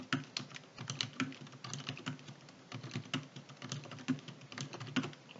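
Computer keyboard typing at a desk while entering spreadsheet cell data, with F2 and Enter presses among quick irregular clacks of close, crisp keystrokes in short bursts.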